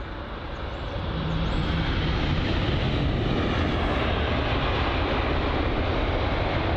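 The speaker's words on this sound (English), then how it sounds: "Boeing 777 from Istanbul." Turkish Airlines Boeing 777 from Istanbul at London Heathrow, a steady broadband jet engine roar that swells after the first second and holds loud and close without talk.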